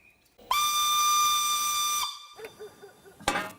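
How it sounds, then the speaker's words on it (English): A 1901 Fowler steam traction engine lets out a loud, piercing steam whistle blast lasting about a second and a half, followed by softer hissing and chuffs, then a final sharp burst of steam. "this thundering beauty is a 1901 Fowler steam traction engine"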